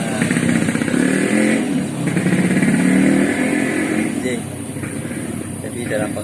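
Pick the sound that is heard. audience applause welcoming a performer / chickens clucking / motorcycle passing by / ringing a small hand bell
motorcycle passing by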